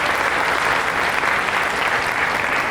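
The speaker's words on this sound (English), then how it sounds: "Let's give them a nice round of applause." An audience gives the panelists a loud, sustained round of applause, with dense, even clapping from many hands that stays steady from start to finish.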